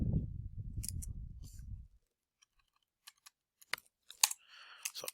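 Sparse, light clicks of typing on a computer keyboard follow a low rumble that fades to silence, a handful of faint separate keystrokes close by.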